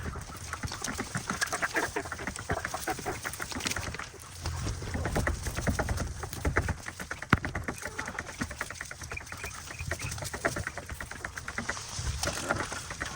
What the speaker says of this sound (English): This little chicken is so curious.